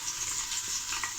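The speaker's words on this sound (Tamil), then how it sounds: "நல்லா சூடாயிடுச்சு. இப்போ இதில் ஆனியன் சேர்த்துக்கலாம்." Chopped onion hitting hot oil in a pan, a bright steady sizzle with light stirring, close and alone.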